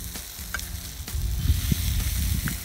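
Sausages sizzle and crackle in a pan over a small wood-burning stick stove outdoors in the woods, with soft scraping of stirring and scattered pops, close and fairly quiet.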